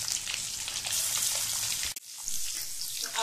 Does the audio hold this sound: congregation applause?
no